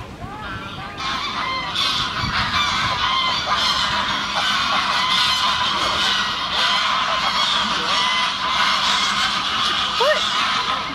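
A large flock of migrating geese or ducks in Munich honks loudly and continuously, dense overlapping calls filling the air at close range, with people's voices mixed in.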